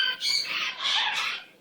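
A pet bird squawks in two harsh, bright bursts, close by and fairly loud, with a brief dip between them and a fade at the end.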